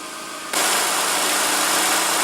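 A 2016 Honda Civic's 2.0-liter inline four-cylinder catches and settles into a steady idle, a sudden loud onset followed by an even, close mechanical hum.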